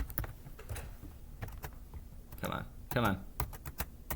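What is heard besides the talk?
typing on computer keyboard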